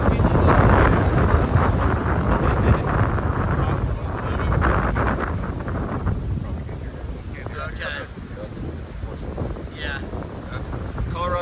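Strong wind buffets the microphone outdoors with a steady, loud, low rumble that never lets up, and a person talks faintly underneath it.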